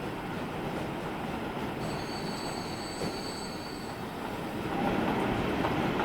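A train pulls away in the railway simulation game Transport Fever 2, its steady rolling rumble and metallic wheel squeal running continuously and growing slightly louder toward the end.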